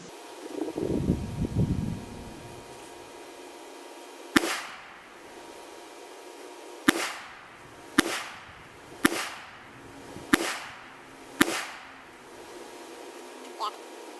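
A Smith & Wesson Bodyguard 380 micro compact pistol fired at a range, six sharp, loud reports spaced roughly a second or more apart, each with a short echoing tail, following a brief rumble at the start.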